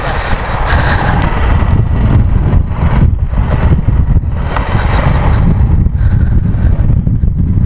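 A BMW motorcycle engine idles steadily and loudly up close, a continuous low rumble with no speech over it.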